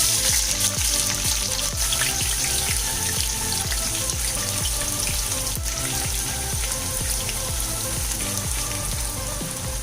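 Onions frying in hot oil in a pan, a steady sizzle with dense crackling spatters continuing evenly throughout, close and without talk.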